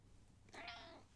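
A single short meow from a house cat sitting on a couch, rising and falling in pitch, fairly close but soft against a quiet room.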